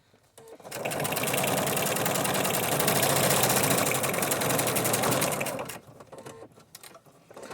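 A sewing machine stitches through a junk journal cover made with 100% cotton thread, running in one steady, loud mechanical burst of about five seconds before stopping, with no talking.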